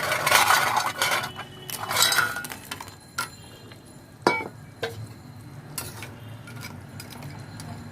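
A spoon stirs koi fish curry with fried pumpkin lentil dumplings and cauliflower in a pot: two bursts of scraping and sloshing early on, then sparse metallic clinks and taps against the pot rim, fairly close.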